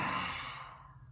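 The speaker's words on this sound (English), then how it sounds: "breathing exercise we're going to do is the lion's breath" A single forceful lion's breath exhale in a yoga session, a breathy, open-mouthed rush of air that starts loud and close and fades away over about a second.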